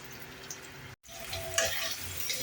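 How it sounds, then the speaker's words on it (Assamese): Sliced onions frying with a pinch of salt in hot oil for mutter paneer, a steady close sizzle with faint stirring scrapes and a brief dropout partway through. "পিঁয়াজখিনি ভাজি আছোঁ"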